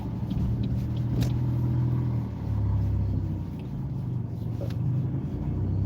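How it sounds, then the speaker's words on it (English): A car accelerating through a parking area, heard from inside as a steady low engine rumble and road noise with a slight rise, no talk over it. "here's my gap, and I'm gonna accelerate"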